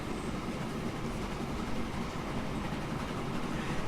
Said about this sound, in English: while we wait on this train to move back and forth a couple of times